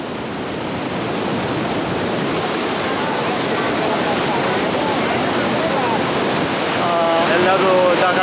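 Iguazu Falls in Brazil roars as a loud, steady wall of rushing water that fills the whole stretch, with faint voices rising toward the end.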